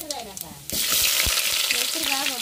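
Onions hit hot oil while upma is being cooked, a sudden loud sizzle bursting in and holding steady after a short quieter stretch with background voice-like tones.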